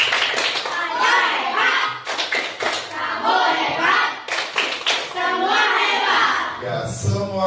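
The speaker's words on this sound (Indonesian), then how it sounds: "Ayo, tepuk hebat." A class of children performs the tepuk hebat clapping chant, chanting together in loud voices while clapping in short synchronized bursts, with a few thumps and a pause between phrases.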